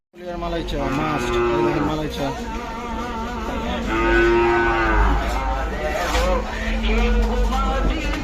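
Cattle low loudly at the Gabtoli cattle market during the Qurbani season, several long, drawn-out moos overlapping one after another, close and prominent over a busy crowd murmur.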